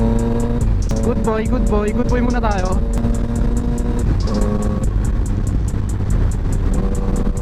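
A big bike motorcycle, an NK400 or Tracer 900 with a full-system exhaust, rumbles loudly and continuously up close on an expressway, rising briefly in pitch as it revs, while the rider talks over the engine.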